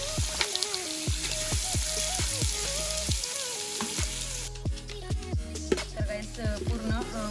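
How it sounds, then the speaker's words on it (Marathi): Onion paste frying with ginger-garlic paste in a pan for chicken biryani, a steady close sizzle with repeated scraping stirs and light clinks throughout, no voices over it. "अद्रक लसणाची पेस्ट फ्राय झाली आता यामध्ये कांदा टाकणार आहे"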